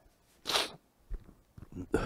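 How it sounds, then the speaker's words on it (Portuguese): A single loud sneeze from a man bursts out up close during a talk, followed by a few shorter breathy sounds and a sniff. "damos uma espirrada aqui, pessoal"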